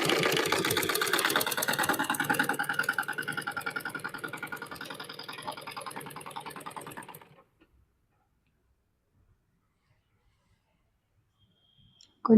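A sewing machine stitches a cut blouse piece, a rapid, even mechanical whir with fast rhythmic ticking that runs for about seven seconds close up, then stops into near silence.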